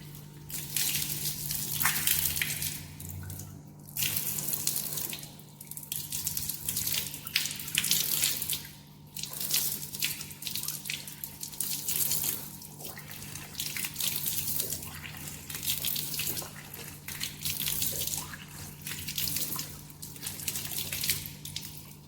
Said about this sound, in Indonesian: Kita cuci satu persatu sampai benar-benar bersih dengan sabun.